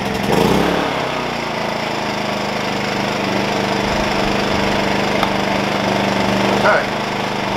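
A Wen 56203i inverter generator's small engine starts up close by with a rough burst, then settles into a steady, loud running drone for several seconds, with a brief flare near the end.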